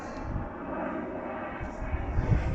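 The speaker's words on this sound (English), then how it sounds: "let's let that plane go over." An airplane drones overhead as a steady, broad roar that builds slightly toward the end, heard outdoors beside a widebody EK9 Civic K20 turbo racecar, with no talk.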